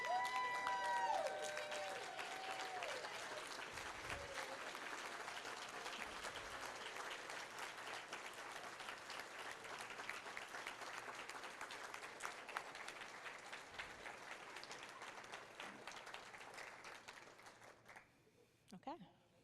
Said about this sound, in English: one last round of applause for the women of excellence in each category